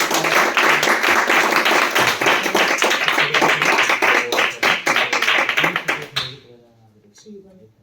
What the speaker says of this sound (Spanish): Pues un aplauso, ¿no?